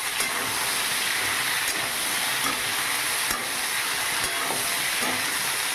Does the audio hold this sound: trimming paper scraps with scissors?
no